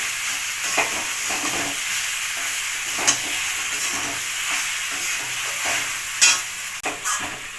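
Pasta tossed with chicken masala in a hot pan, a continuous bright sizzle punctuated by a few clattering knocks of the stirring utensil, close by and unaccompanied by speech.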